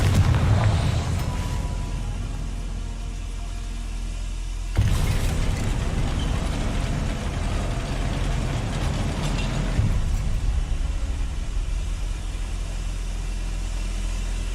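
A Confringo spell blast in Hogwarts Legacy, a loud booming burst at the start followed by a second heavy blast near the five-second mark, rumbling on over steady low background game noise.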